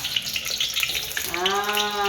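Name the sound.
risoles frying in hot oil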